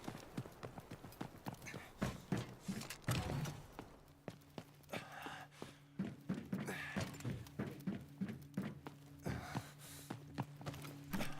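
Repeated footsteps in the Delta Force video game, a steady run of thumping steps that carries on throughout alongside heavier thuds and a low mechanical hum.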